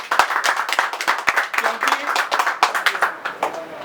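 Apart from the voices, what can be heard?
audience clapping in welcome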